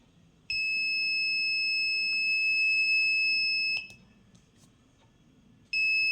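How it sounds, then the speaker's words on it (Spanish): A homemade alarm built around an NE555 timer sounds a loud, steady, piercing electronic tone for about three seconds, goes quiet, then starts again. "Una pequeña alarma para nuestra casa, haciendo uso del famoso y mundialmente conocido el NE555"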